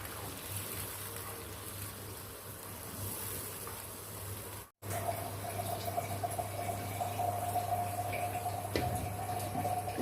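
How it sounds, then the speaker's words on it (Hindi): Water runs steadily into a cooking pot of chickpeas with a soft, continuous trickle, briefly cut off midway before resuming alongside a low background hum. "मज़ीद पानी डालेंगे।"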